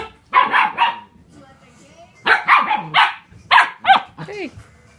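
Several dogs barking at a mirror in a home, in short bursts of sharp yaps and yips with pauses between, fairly close and loud, some barks rising into whiny tones.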